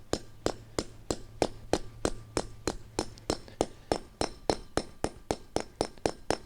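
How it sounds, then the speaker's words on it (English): A hammer strikes an anchor bolt into concrete in a steady run of about twenty sharp, ringing metallic blows, evenly spaced and close by, with no talk. "Just hammer that in till it bottoms out."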